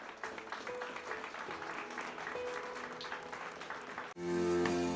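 In a church service, the congregation claps in a dense, fairly distant wash of applause that cuts off abruptly near the end, followed by a louder burst of music or other sound.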